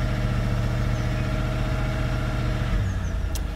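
A BMW engine idling steadily with a low, even hum and a slight change in tone near the end, close and continuous with no talk, while the mechatronics gearbox input is being checked.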